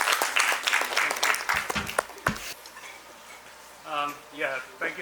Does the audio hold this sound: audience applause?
yes